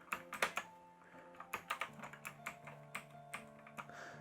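Keys pressed on a Klim Domination gaming keyboard: a series of close, crisp clicks, a few quick taps then slower separate presses, each sharp and short.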